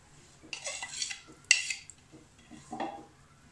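Mince, lentils, spices and onion tumble into a cooking pot or pressure cooker, a few close scraping clinks of spoon and metal in uneven bursts, with quiet pauses between.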